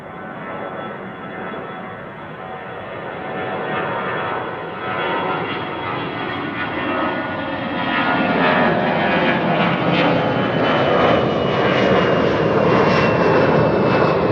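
A Georgian Airways Boeing 737 climbs out of an airport and passes overhead, its jet engines a loud, rising roar with a high whine that grows steadily closer over about fourteen seconds.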